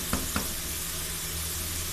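Slices of karela (bitter gourd) frying in ghee give a steady, soft sizzle, with a couple of faint clinks near the start and no voices.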